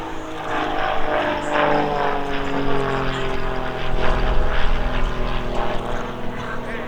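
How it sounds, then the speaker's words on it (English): An RAF Grob Tutor propeller trainer performs an aerobatic display at Old Buckenham Airshow, its engine droning loudly and steadily and swelling as it passes through a roll, under faint crowd and commentary noise. "After this half cube, Bob will enter the 4-point roll."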